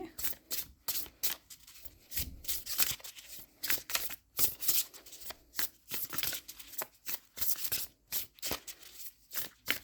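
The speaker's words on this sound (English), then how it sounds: "let's just get a crystal card here to help clarify" Crystal oracle cards shuffled by hand in quick, repeated riffling bursts, close and crisp, with short gaps between the shuffles.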